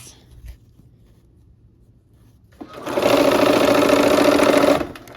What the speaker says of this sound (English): Let's go ahead and sew these, our 1/4 inch seam.